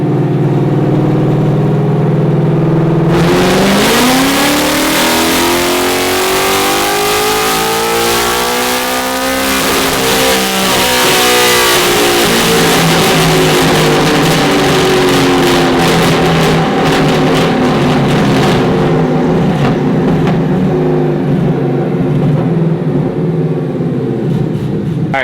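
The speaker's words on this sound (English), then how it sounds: "we just did the first dyno pull on nitrous" A loud Mustang engine idles, then revs hard on nitrous during a dyno pull, climbing steadily in pitch for several seconds before dropping, roaring continuously at full volume with a rough, raspy edge.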